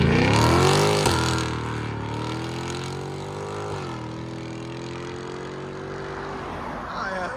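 A 2024 Ford Mustang GT with a 5.0L V8, Valvetronic Designs mufflers and an X-pipe revs hard, then its loud, deep exhaust drone holds and rises steadily, close by with no talk over it.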